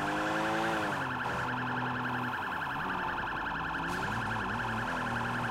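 A police car siren wails steadily and loudly in the Sleeping Dogs: Definitive Edition video game, its rising and falling tones continuing throughout with no talking.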